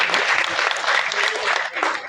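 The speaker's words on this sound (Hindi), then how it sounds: "जोरदार ताली होनी चाहिए सभी के लिए" Audience at an appointment-letter distribution ceremony for assistant professors breaking into loud, dense clapping that runs steadily for about two seconds, close and bright.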